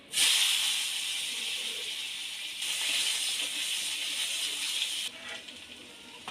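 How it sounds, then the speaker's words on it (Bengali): Potatoes dropped into hot oil that has just fried fish, a sudden loud hiss settling into a steady close sizzle that swells again partway through, then softens. "এবার ওই তেলের মধ্যে আমি আলুগুলো ভেজে নেব।"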